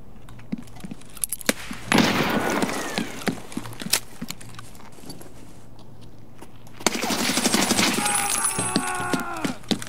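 Shooter video game gunfire in a Customs match, with sharp scattered shots and short bursts, then a denser stretch of rapid fire near the end, over a low steady background hum.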